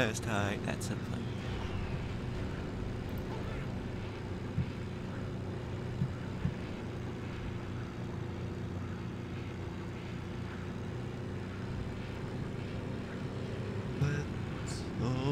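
A propeller plane engine in the video game Forgotten Hope 2 drones steadily and continuously, a close, even roar with low harmonic hum that holds for the whole stretch.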